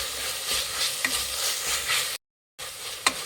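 Green chillies frying in a pan with softened greens for a mushroom biryani, a steady sizzle broken by stirring scrapes and a few sharp utensil taps, with a brief gap of silence partway through.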